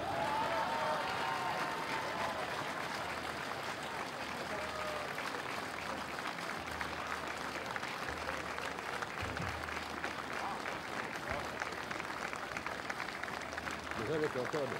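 A large outdoor crowd at a May Day speech breaks into sustained applause, steady dense clapping that carries on at an even level from start to finish, with faint voices mixed in underneath.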